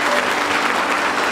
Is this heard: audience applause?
yes